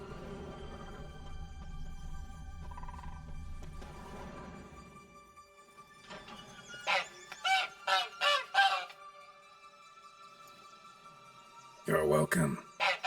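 A caged egg-laying bird in The Witcher 3 squawks in several loud, honking bursts, a quick cluster of calls followed by a later pair, after a stretch of speech.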